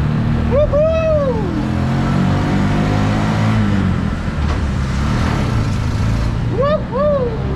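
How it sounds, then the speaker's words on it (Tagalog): An old, rusty Bajaj auto rickshaw with a noisy engine that needs repair runs at close range, a loud steady rattling drone with two distinct revving swells near the start and the end. "So medyo maingay yung makina kasi ay ipapayos natin"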